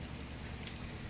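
Steady rain falling over a village on a cold winter day, a dense, even hiss of drops that stays constant and fairly close throughout, with no voices.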